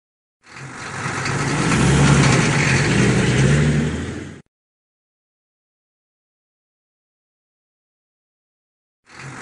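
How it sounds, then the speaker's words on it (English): Toy trucks drive past in the video game Curious George Secret Agent, heard as one loud, steady engine-like rumble that lasts about four seconds before cutting to silence, with a brief burst returning at the very end. "Jump on the table to avoid toy trucks."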